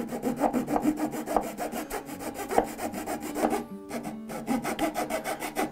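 Handsaw cutting through wood for a bench, a steady rhythmic back-and-forth rasp of quick strokes, close and clear, with a brief pause partway through before the strokes resume.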